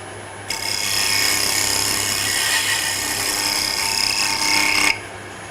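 A hand tool scrapes wood while shaping a tri-cornered wooden box, a single continuous rasping stroke lasting several seconds, close and fairly loud, with no one talking.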